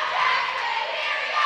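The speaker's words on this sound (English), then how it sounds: "The Jackson crowd is alive after a great rally and point earned by their team." A volleyball crowd in Jackson's home gym roars and cheers loudly and continuously after a long rally, a dense wall of shouting voices.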